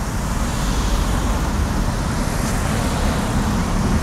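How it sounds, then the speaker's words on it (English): Slow-moving city traffic creeping through an intersection near Vine street produces a constant low rumble of car and truck engines at street level, steady and unbroken, with nobody talking. "You can see cars slowly moving through the intersection"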